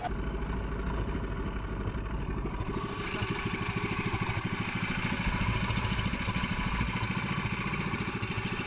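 A steady mid-pitched boat engine idles with a continuous chugging rumble, close by and unchanging throughout, on a spearfishing trip in the Philippines.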